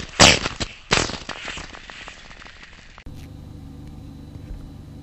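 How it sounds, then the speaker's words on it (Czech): A Storm 360 gas airsoft grenade goes off on a path with two sharp, loud bangs close together, followed by a scatter of rapid ticking pops that fade. A steady, quieter hum takes over at the end. "jak to vypadá, když se granát odpálí"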